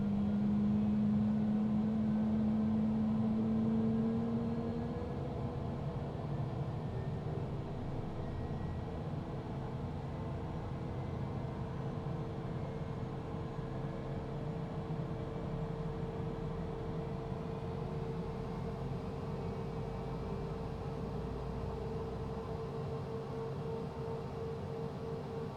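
A Cessna Citation CJ3+ jet engine spooling up to idle in a flight simulator, a rising whine settling into a steady hum and airy roar that holds evenly and alone.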